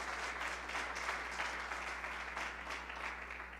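A church congregation applauds together in a large hall, a dense, steady clapping that fills the room briefly before fading slightly, with no clear talk over it.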